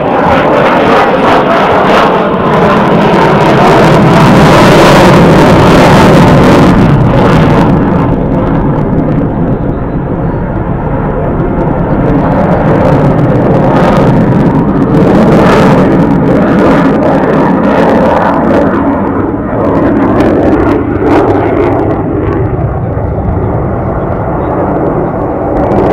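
A MiG-29 fighter jet roars loudly during an air show display, its engine thundering and surging in waves as it passes close overhead, with no voices over the blast.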